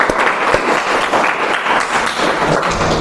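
A classroom of students applauds together at the end of a lesson on business ideas and opportunities, a loud, close, continuous patter of clapping with a few sharper slaps, no talking over it.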